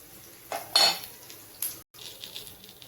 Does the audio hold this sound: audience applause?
no